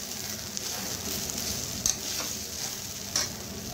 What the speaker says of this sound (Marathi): खोबरं थोडंसं 1 मिनिटभर आपल्याला परतवून घ्यायचं आहे.